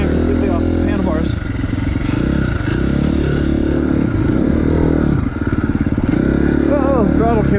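An off-road racing motorcycle engine revs and clatters over rough terrain during an Arizona off-road state championship race, loud and close, its pitch climbing and dropping with throttle blips while a rider speaks over it.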